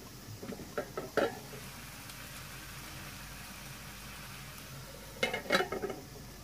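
Egg frying in a pan with bitter gourd and pepper, a steady low sizzle running throughout with a few sharp clinks of a utensil against the pan near the start and end.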